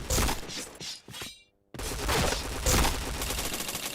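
Rapid bursts of gunfire in a shooting video game, loud and dense, broken by a short silent gap before the volley resumes.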